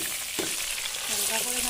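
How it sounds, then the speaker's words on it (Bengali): Tilapia pieces fry in hot oil for a spicy tilapia dish, giving a steady, close, broadband sizzle with a brief utensil scrape early on and faint tonal sounds near the end. "মাছগুলো আমি ভেজে নেব"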